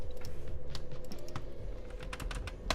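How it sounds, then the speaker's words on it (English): Computer keyboard typing, a steady run of quick clicking keystrokes close by with a few louder key hits, over a low background hum and no talk. "Am I typing it wrong?"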